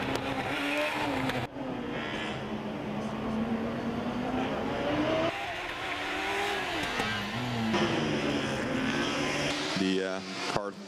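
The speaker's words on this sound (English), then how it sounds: "who have been given the go-ahead to start their engine" Formula Student race car, entry from Coimbatore, India, firing up and revving during the endurance event, its engine droning and rising in pitch over a steady crowd and announcer hubbub, with a burst of higher revs near the end.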